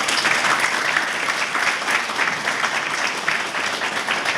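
An audience at a book presentation event applauds warmly, dense continuous clapping filling the whole stretch, loud and even without pauses.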